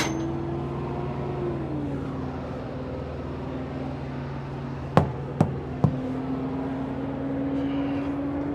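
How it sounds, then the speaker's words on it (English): Three sharp metallic knocks from a hammer striking a semi truck during a pre-trip inspection, spaced about half a second apart over a steady idling engine drone. "Grab our hammer out of here."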